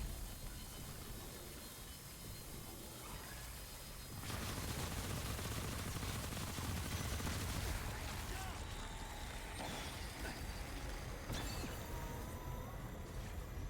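Rapid video game gunfire rattles on and off through a steady, dense wash of game noise, with a voice talking over it.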